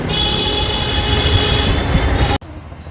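A train rumbles past close by, loud and steady with metallic wheel noise and a high squeal, then cuts off abruptly near the end.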